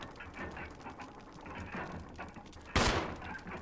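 A single sharp gunshot cracks out in the Resident Evil video game, loud and abrupt over a low ambient hum and faint shuffling, followed by a short ringing tail.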